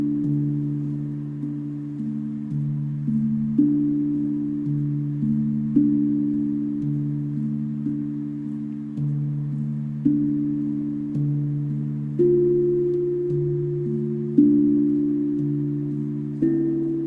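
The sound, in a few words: steel drum notes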